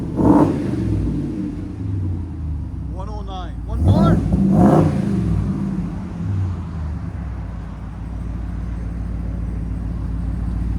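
A 2020 RAM 2500 with a 6.4L HEMI V8, resonator removed and a 6-inch exhaust tip fitted, idles with a deep rumble and then revs twice in quick succession, with people talking over it.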